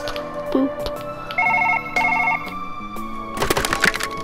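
A phone in the Surgeon Simulator video game rings with a synthetic electronic tone in short repeated bursts, loud and close, ending in a clatter of handling noises.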